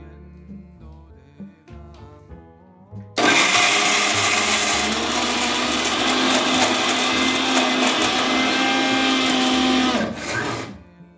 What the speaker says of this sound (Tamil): முந்திரி அவிச்ச முந்திரி அரைக்க போகிறேன்